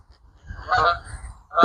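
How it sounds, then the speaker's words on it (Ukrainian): Geese honk a couple of times nearby at a beeyard in Canada, loud nasal calls over a low rumbling background. "Гусі розліталися, мабуть, яйця поїли їхні."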